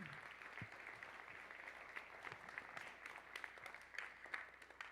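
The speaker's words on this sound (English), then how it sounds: "clap it up, clap it up, clap it up." Conference audience in a hotel ballroom clapping steadily for several seconds, a dense wash of overlapping claps with no voices standing out.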